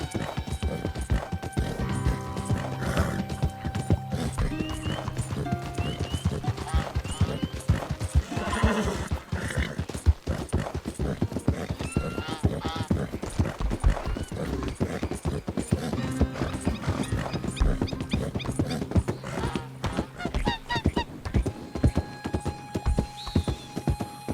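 A horse's hooves clip-clop steadily in the video game Red Dead Redemption 2, a continuous rhythmic trot with occasional neighs and light mechanical clicks, fairly quiet and without speech.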